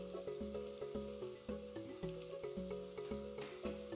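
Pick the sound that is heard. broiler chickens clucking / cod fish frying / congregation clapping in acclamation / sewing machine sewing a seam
cod fish frying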